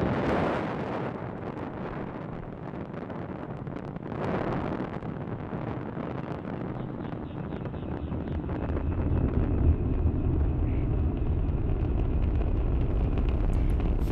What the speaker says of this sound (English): Falcon 9 has successfully lifted off from Launch Complex 39A